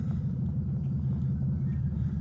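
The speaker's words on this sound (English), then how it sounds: "we got somebody new that got a race car, and here he comes" A Crown Victoria race car engine rumbles steadily and loudly throughout, a deep continuous drone without talk as the car comes closer.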